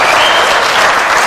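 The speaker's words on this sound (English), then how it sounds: "Huge reaction from the crowd." A large crowd claps loudly and steadily in a dense, continuous roar of applause, close and sustained.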